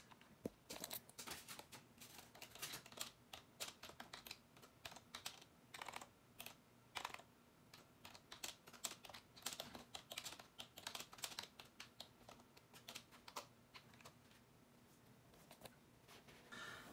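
Fast, continuous typing on the small keyboard of a Sony VAIO UX VGN-UX380N handheld PC, dense close key clicks in quick bursts with brief pauses, quiet and without speech.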